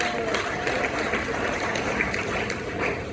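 Church congregation clapping together: dense, sustained applause filling the space at an even, loud level throughout, with crowd noise mixed in.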